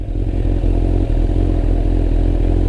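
A motorcycle pulls away on light throttle, its engine note steady and close with a faint mechanical clatter, no talking over it.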